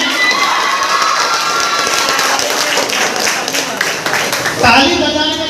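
An audience at a school award ceremony, a block-level Tarang Utsav talent competition in Asarganj, Bihar, claps and cheers. The loud, continuous applause is mixed with shouting children's voices and crowd noise throughout.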